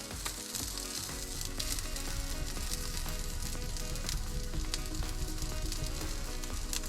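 A burger patty frying on a hot surface, a dense, loud, steady sizzle that crackles continuously and close by throughout, with no talking.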